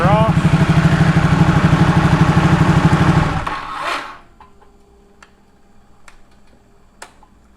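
A Ducati Panigale motorcycle engine idles warm with a steady, throbbing rumble, then cuts off after about three seconds, leaving faint ticks and clicks as it settles.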